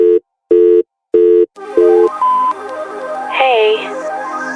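A phone call sounds out with four short, evenly spaced electronic tones. A softer, murky mix of tonal sounds and faint voice-like wavering then takes over.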